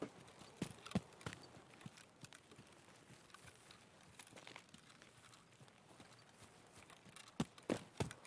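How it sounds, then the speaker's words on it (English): Rain in the Escape from Tarkov video game, heard as faint, scattered patter with sharp irregular taps that resemble footsteps, quiet overall with occasional louder hits. "This is the kind of rain that really sounds like footsteps."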